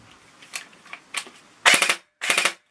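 An ASG Scorpion EVO 3A1 airsoft gun fires several soft clicking shots, then two louder short bursts of rapid full-auto rattle, close and alone.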